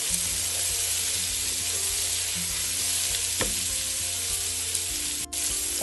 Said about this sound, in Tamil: வெங்காயம் ஒரு அரைவாசி வதங்கிட்டுது